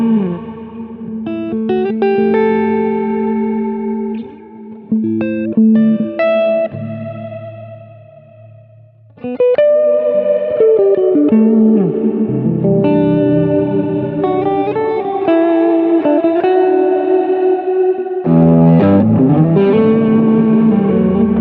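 An electric guitar runs through a Strymon BigSky reverb pedal, playing chords and single notes under long, washy reverb tails and shimmering sustain, with a brief quieter drop before the playing swells back in loud and full.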